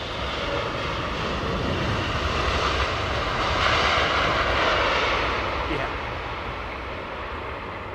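A Biman Bangladesh airliner at Heathrow passes with a loud, sustained broadband jet engine roar that swells and then slowly fades, with a person talking over it.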